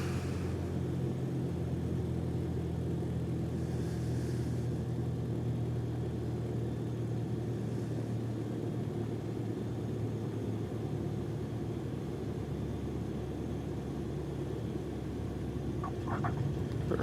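Aircraft engine in a flight simulator pulled back to idle after reaching the runway on approach, a steady low droning hum with a constant tonal band that holds evenly throughout, alone with no talk.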